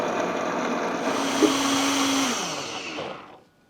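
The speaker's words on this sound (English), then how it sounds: "let's get this on to our Vitamix and blitz away" A Vitamix blender roars at high speed, blitzing ingredients into a paste, a steady loud whir with a dip in pitch partway through before the motor winds down and stops.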